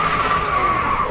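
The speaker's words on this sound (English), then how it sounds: "I do a lot of donuts" A car doing donuts in the Grid 2 racing game gives a loud, sustained tire squeal, a steady high screech that holds evenly for the whole brief moment over engine noise.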